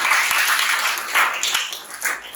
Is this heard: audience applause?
yes